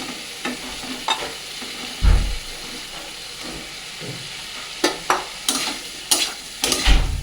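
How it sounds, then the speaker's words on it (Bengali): Fried cauliflower and potato stirred into a paste of ginger, turmeric, salt and chilli powder in a hot pan, with repeated close scraping strokes and short bursts of sizzling; no one speaks. "কষে গেছে এবার ফুলকপি আলু ভেজে রাখা সেটা দিয়ে দেবো"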